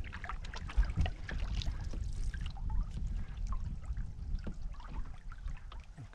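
A canoe is paddled across a Scottish loch at Loch Ba, Glencoe, with soft water trickles, drips and gentle splashes from the strokes, close by and quiet, with no talking.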